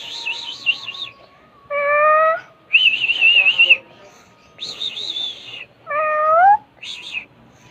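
Pet cats meow in a series of loud, close, drawn-out cries, alternating with rising whistle-like tones and warbling chirps that sound like a game's sound effects, all in a quiet room.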